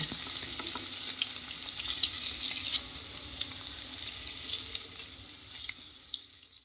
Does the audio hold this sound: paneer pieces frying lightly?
yes